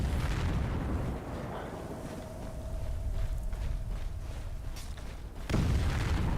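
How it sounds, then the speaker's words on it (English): Explosions in the fantasy role-playing video game Skyrim, heavy rumbling blasts with a low roar underneath and a fresh loud boom near the end, no talk. "What's all this explosion nonsense?"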